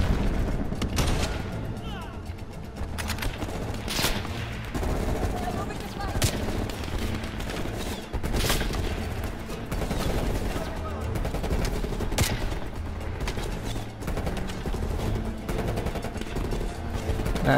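Repeated gunshots ring out from the Call of Duty Black Ops war game, sharp reports spaced unevenly over a dense, noisy backdrop of battle sounds, with a voice talking over the action.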